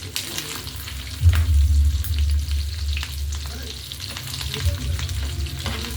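Fish roe frying in a pan gives a steady close sizzle with bursts of crackle and occasional stirring scrapes, no talking.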